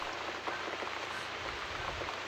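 Steady, dense rain falls and patters across surfaces in The Cat Lady, a continuous close wash of drops with no voices.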